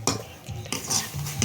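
Fried potatoes are tipped into chicken cooking in a clay pot, with a quick run of metal spoon clinks and scrapes against the pot over a faint sizzle.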